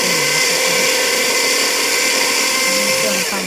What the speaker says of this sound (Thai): เอาปั่นอีกรอบหนึ่งเนาะเพื่อเขาสิได้น้ำยานางที่ขึ้น